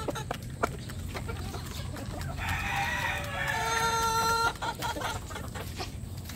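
A rooster crows loudly in the middle, while hens cluck on and off and a rhythmic background noise continues throughout.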